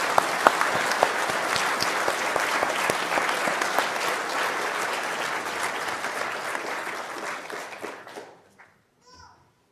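Graduation ceremony audience at Liverpool University claps steadily for about eight seconds, a dense sustained applause that fades out, followed by a short voice at the end.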